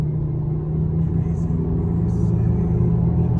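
A 2013 Jeep Patriot with newly replaced front wheel bearings and pulleys cruises steadily on the road, its interior hum a low, continuous rumble of engine and tyre drone with no break or surge.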